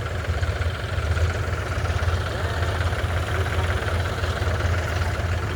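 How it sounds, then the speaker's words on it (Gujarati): Two Mahindra 4x4 tractors strain to pull a stuck sand trolley free, their engines giving a steady, heavy low drone that rumbles on continuously and close by, with no voices over it. "હવે પૂરું જોર મારવાના છે ટ્રેક્ટર બે. મહિન્દ્રા 4x4."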